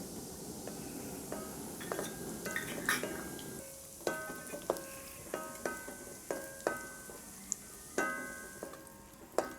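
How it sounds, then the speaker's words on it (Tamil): Raisins and cashews roast in ghee in a pan, giving a soft, steady sizzle with a run of light metallic clinks and taps from stirring in the second half, fairly quiet and with no talk. "நெய்யில் நம்ம கொஞ்சமாக இதில் சேர்த்துட்டு திராட்சை முந்திரி வறுத்துக்கலாம்"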